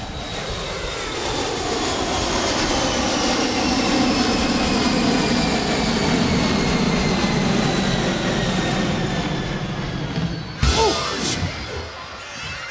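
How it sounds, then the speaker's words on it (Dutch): An airplane sound effect plays in a Sinterklaas children's theater show, a loud, steady propeller-engine drone that holds for several seconds before breaking off into a sudden clatter near the end. "Luister of je het vliegtuig al hoort."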